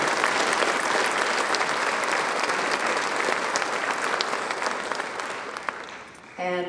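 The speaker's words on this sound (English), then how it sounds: "we owe the Chamber a big hand of applause for all that they do for our particular community." Audience at an annual banquet applauds in a dense, sustained burst of clapping, loud and steady for about six seconds before fading, with a voice resuming right at the end.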